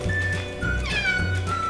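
A house cat meows repeatedly, several drawn-out cries close to the microphone, with a steady low hum underneath.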